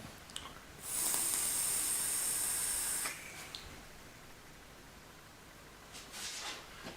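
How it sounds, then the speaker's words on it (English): A KingTu Skyline M-6 copper clone vape mod fires in one steady hissing draw of about two seconds, close and fairly loud, followed by a short click and faint breathy exhale noise. "let's see how it vapes."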